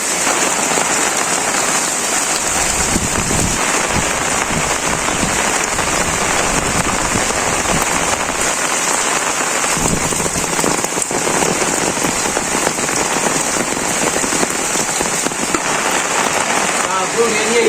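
Heavy storm rain in a Bangladeshi village pours steadily and loudly onto a surface, a dense unbroken hiss of drops from start to finish.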